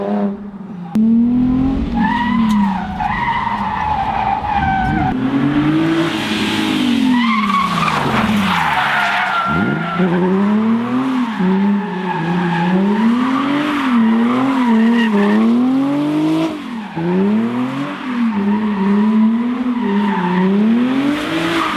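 A stock Nissan 350Z street drifting, tires squealing loudly and continuously with wavering pitch across the whole stretch, the engine droning beneath in repeated surges, close by.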